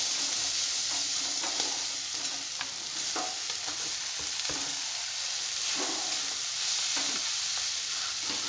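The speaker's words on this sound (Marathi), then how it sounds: "आता यामध्ये आपल्याला हलवून ही ढबू मिरची टाकून घ्यायची आहे." Capsicum stirred and fried in a pan with salt and pav bhaji masala, giving a steady close sizzle broken by repeated scraping strokes of the spoon, with no talking.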